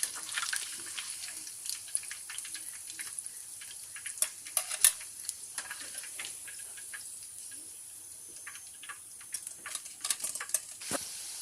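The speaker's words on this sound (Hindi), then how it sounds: "3 और जो है उसको भी फ्राई करके हम आपको बताते हैं" Chicken donuts sizzling in hot frying oil, a steady fine crackle and patter with scattered sharper pops throughout, close and moderately quiet, no talking.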